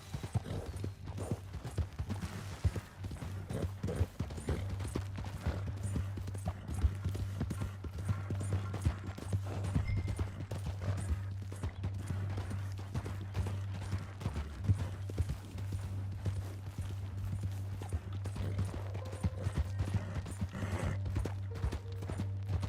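Horse hooves clip-clop at a steady walking pace in Red Dead Redemption 2, close and even, over a low droning hum with no talking.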